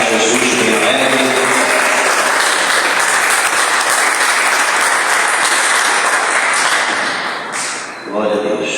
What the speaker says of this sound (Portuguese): Quem pode dar uma salva de palmas para Jesus bem alegre?